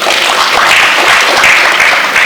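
A crowd applauds a speaker at a student venture capital grant launch. The clapping is loud, close and continuous, a full unbroken wash of hands throughout.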